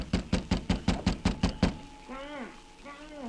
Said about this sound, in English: The sergeant knocked on the door.